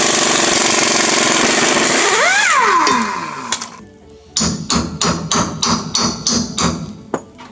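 Impact wrench rattling bolts off while replacing leaf springs on a 1983 Toyota Hilux, a loud whirring burst that winds down, followed by a string of sharp rapid hammering rattles close by.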